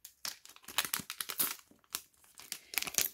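A small mixing spoon for wax seals is unwrapped from crinkly plastic packaging, with close, irregular bursts of crackling and rustling and brief quiet gaps between them.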